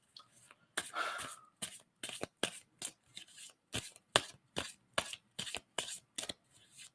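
Tarot cards being shuffled by hand, a steady series of short crisp riffling bursts, close and distinct, with no talk over them.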